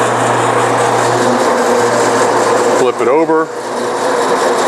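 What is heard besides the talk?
bandsaw cutting a trapezoid workpiece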